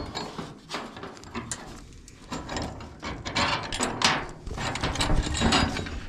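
An Allen wrench works a light bracket on a 1969 CJ5 Jeep, close metallic clicking and ratcheting with rubbing scrapes in irregular bursts that grow busier toward the end.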